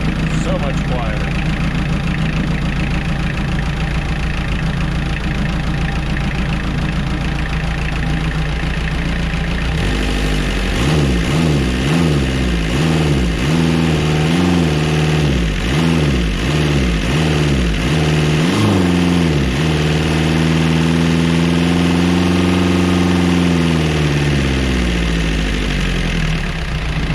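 A Kubota diesel engine on a junkyard roller compactor runs with a new muffler, idling steadily and then revving up and down in repeated surges before settling, loud and close throughout.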